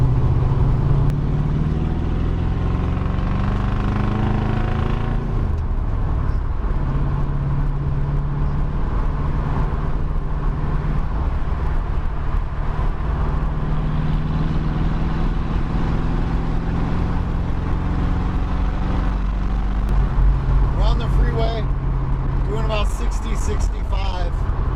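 A 1976 Dodge Dart Sport with a 318 V8 and four-speed manual drones steadily at highway speed, heard from inside the cabin under ongoing talk.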